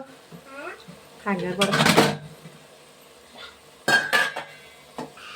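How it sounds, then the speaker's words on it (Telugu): A lid placed on a cooking pot, metallic clatters and clanks of cookware in two bursts, close, with brief voice sounds before. "మూత పెడతానండి ఒకసారి"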